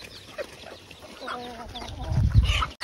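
Local chickens and ducks eating grain together on an Assam duck farm, with soft clucks and short calls, then louder low-pitched pecking and scuffling near the end.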